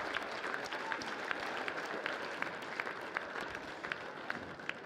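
Steady crowd applause fills a basketball game gym, a dense continuous wash of clapping with sharp individual claps popping out rhythmically throughout, fairly loud and without talk over it.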